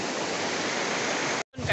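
Steady, dense rush of water from a mountain stream, loud and close, continuing without pause before a brief dropout near the end.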